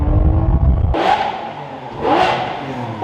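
Lamborghini Aventador V12 with the roof off revs loudly twice, each sharp vroom rising and then falling away, close and with no voices over it.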